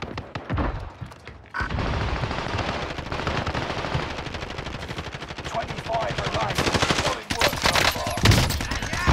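Heavy automatic gunfire from Call of Duty Warzone rattles in dense bursts with a short pause early on, loud and continuous under players talking over it.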